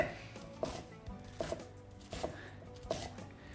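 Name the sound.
chopping vegetables with a knife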